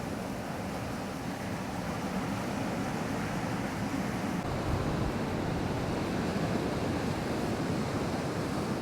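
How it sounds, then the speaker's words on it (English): Strong wind buffets the microphone at a beach while ocean surf rumbles and washes continuously, a loud, steady roar with no breaks and no voices. "It is incredibly windy, and it is hopefully not too noisy."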